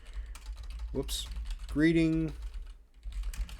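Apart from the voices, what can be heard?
typing on a computer keyboard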